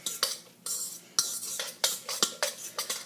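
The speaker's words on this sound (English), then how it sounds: "It's mixing very easily. I'm not having any issues. I'm just using a fork." A fork mixes cauliflower, egg and cheese in a bowl for a cauliflower crust pizza, giving a series of quick, close scraping and clinking strokes in an irregular rhythm, with brief pauses between bursts.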